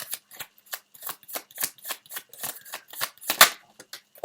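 Tarot cards being shuffled by hand, a close series of crisp riffling and snapping bursts in an uneven rhythm, fairly loud and with no talk.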